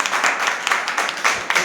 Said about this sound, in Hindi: तो एक बार जोरदार तालियों से बता दें कि हम कम है लेकिन ताली कम नहीं है।